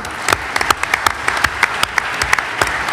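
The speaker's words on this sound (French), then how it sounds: "Merci Jean Tirole, on peut vous applaudir." Applause from a conference audience after a talk, sharp individual claps from a small group close by, steady and fairly loud for three seconds.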